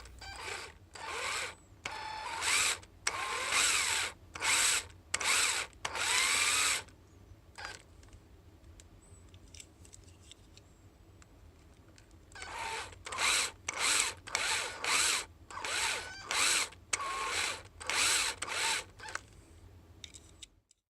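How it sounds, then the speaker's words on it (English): Repeated bursts of a power drill with a larger bit whining through the metal rivet tops of a diecast Shelby GT500 model car, each under a second, with a short quiet pause midway before another run of bursts. "Next, we'll move to a larger bit to remove the tops of the rivets."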